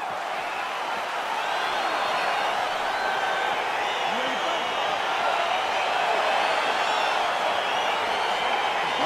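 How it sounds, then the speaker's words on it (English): A dense, steady roar from an arena crowd in the UFC 4 video game, cheering as a Khamzat Chimaev vs Kevin Holland bout gets underway, holding a constant loud level throughout with no clear breaks. "Crowd getting excited as this fight gets underway"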